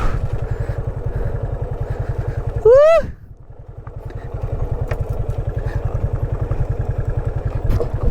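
A motorcycle engine putters with a steady, rapid low thumping close by on a ride up to the Guwahati Kargil view point, with a brief rising whoop-like voice cutting in midway.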